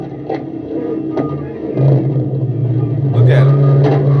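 A Dodge Charger Scat Pack 392 engine rumbles and revs as its wheels spin and burn while the car is pushed. The steady low drone swells louder partway through, with voices shouting over it.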